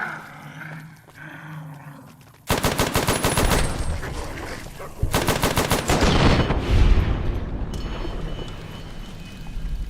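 Rapid machine-gun-like bursts from the Cyberdog gun in Fallout New Vegas, Old World Blues, blend with growling, roaring dog noises, loud and repeated in two long volleys after a quieter opening, without talk.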